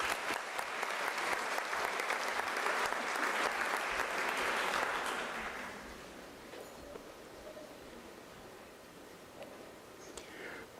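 Loud round of applause from a graduation ceremony audience at Unisa, dense and sustained for about five seconds before fading into a softer, scattered patter of claps and room noise.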